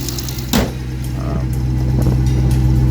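Hemi V8 idling with pulley noise, a steady low engine drone with a faint rhythmic whine and ticking, close up, with a brief clunk near the start.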